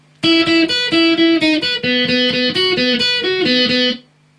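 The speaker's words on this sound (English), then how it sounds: "The bridge for guitar 2 will just sound something like this then" Electric guitar plays the second guitar's bridge line from a song, a bright picked single-note riff stepping up and down for about four seconds, loud and alone, then stopping.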